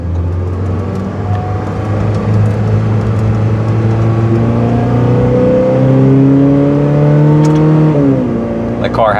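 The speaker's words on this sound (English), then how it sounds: "we're going for a quick test drive here" A 2019 Ferrari 488 Pista on a test drive hums steadily from inside the cabin, its engine note rising gradually in pitch and then shifting near the end, with no talk over it.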